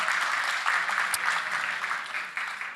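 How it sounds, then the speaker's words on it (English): Conference audience applause at the Vilnius security forum as a speaker is introduced, a dense, sustained clapping that swells slightly and then tapers off toward the end. "More applause, please."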